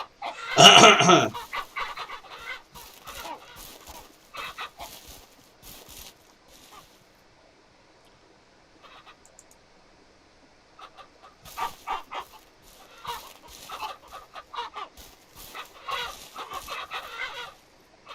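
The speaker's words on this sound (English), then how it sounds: "No wonder we've got so many bloody eggs. The amount of roosters we've got." Roosters and chickens cluck in the farm game Ranch Simulator, a loud burst at the start followed by scattered clucks and squawks that come and go, with quieter gaps in between.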